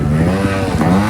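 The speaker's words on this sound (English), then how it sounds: "I'm going to see if I can get up there and almost carry a wheelie all the way up the hill" A trials motorbike revving hard while holding a wheelie up a hill, a loud, close, steady engine drone with slight pitch wobble.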